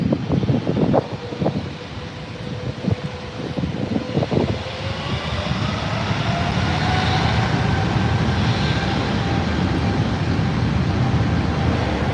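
An Air France airliner departing LAX, heard as a broad, steady jet roar that swells and holds with a rising engine whine, mixed with wind noise on the microphone and a few brief knocks early on.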